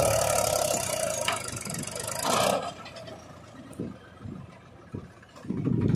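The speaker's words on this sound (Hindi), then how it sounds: "महिंद्रा ट्रैक्टर 265 DI ट्रैक्टर लेकर" The engine of a Mahindra 265 DI tractor pulling a fully loaded trolley runs with a mid-pitched rumble that rises and falls through several revving surges, with scraping and clattering noises mixed in.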